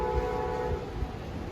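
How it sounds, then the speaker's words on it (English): Amtrak Silver Star diesel passenger train approaching on a cold, rainy afternoon in Fredericksburg, its horn sounding a sustained chord over a low engine rumble and rail noise. "At 4:43 approaching is the Silver Star, train 91 from New York to Tampa and Miami."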